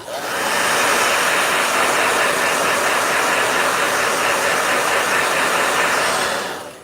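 A blow dryer runs continuously at close range, a loud steady whooshing hiss that starts abruptly and cuts off after several seconds, with no talk over it.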